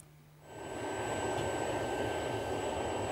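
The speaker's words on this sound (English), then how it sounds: "The propane jet fire was initiated" A propane jet fire ignites in a fire-resistance test on a bulkhead test piece and settles into a loud, steady, broadband roar that holds constant after a brief quieter start.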